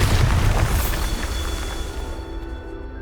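A Bombarda blasting spell explodes in the video game Hogwarts Legacy, a single loud booming blast that hits at once, then rolls off into a decaying rumble with a faint ringing tail.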